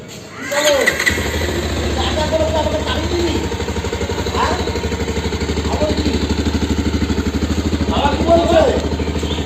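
A motorcycle with about 4,747 km on it starts up with a short cranking clatter, then settles into a loud, steady, close idle thumping rhythmically, with a voice speaking over it.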